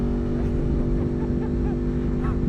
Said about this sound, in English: Sitting on this motorcycle, riding it around like this, I could make the case for having this exhaust.